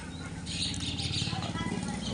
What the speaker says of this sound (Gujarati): આપણે ઘણી બધી જાતના પક્ષીઓ.